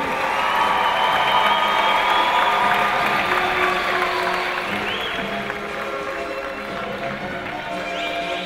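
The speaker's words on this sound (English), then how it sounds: "Once again, ladies and gentlemen, round of applause." Sustained crowd applause and cheering for a women's 800 freestyle gold medalist and new Canadian record holder at a swimming meet, loud and steady throughout, easing slightly midway, with a faint announcer voice beneath.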